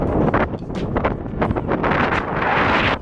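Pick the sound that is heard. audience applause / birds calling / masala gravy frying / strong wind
strong wind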